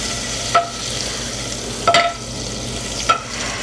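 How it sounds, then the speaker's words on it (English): Butter melting in a pan for mac and cheese: a steady, close sizzle with three brief metallic clinks and scrapes of a whisk against the pan, no talking. "I'm going to get myself a whisk, and as soon as the butter is melted"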